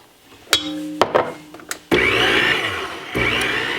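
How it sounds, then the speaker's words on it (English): An electric mixer starts up and runs loudly, beating butter and sugar for a caramel cake, after a few clattering bumps; a steady whirring drone fills the second half. "And turn our mixer back on again."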